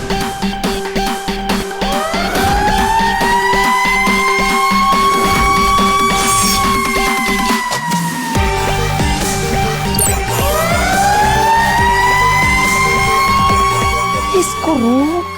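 A cartoon siren-like alarm from a malfunctioning device wails in long rising and falling sweeps, loud and continuous, while voices talk over it.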